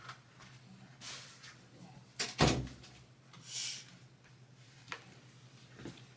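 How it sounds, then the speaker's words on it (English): A door is closed indoors: a brief shuffle and a sharp thud from a nearby latch and slam, followed by quieter rustling over a low background hum. "let me close my door"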